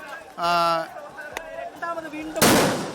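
Police fire tear gas grenades at SFI-KSU protesters at Palayam. Shouting voices dominate, then one loud, sharp blast bursts out near the end and fades into noise.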